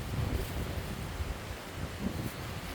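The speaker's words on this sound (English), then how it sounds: "Where'd that wind come from? Here comes the cold front." Wind gusting outdoors ahead of a cold front, a steady low rumbling rush with buffeting swells, loud and close with no voices.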